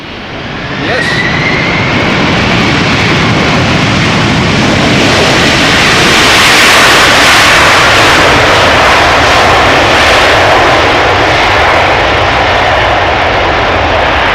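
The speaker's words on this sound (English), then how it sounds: "Last airplane of the day. Let's look and listen." A jet airliner taking off at Amsterdam Schiphol Airport, a loud sustained engine roar that swells in within the first second and holds powerfully throughout, close and overwhelming.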